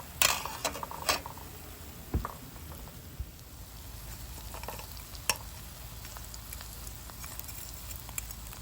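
Dried fish frying in a thick, heavy pan gives a faint steady sizzle with occasional sharp pops and clatters as pieces are turned, close and quiet with no talk.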